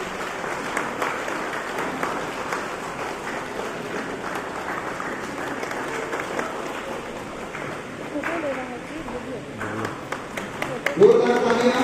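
Applause from an audience at a youth leadership training seminar, a moderate spread of clapping that runs under a speaker's amplified voice talking over it.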